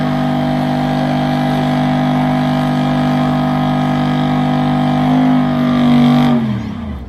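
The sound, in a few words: truck doing a tire burnout, engine revving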